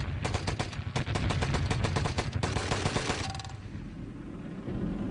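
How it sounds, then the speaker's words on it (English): Maxim machine guns fire in a battle in Sudan against British-led forces: loud, rapid, continuous bursts for about three seconds, then the fire stops and a low rumbling tail fades out. "The hungry and attentive Maxims opened fire on them, sweeping them all to the ground."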